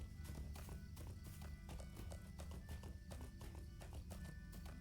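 Horse hooves clip-clop steadily at a brisk, even pace in the online game Lord of the Rings Online, with a faint whinny and a soft voice buried low underneath.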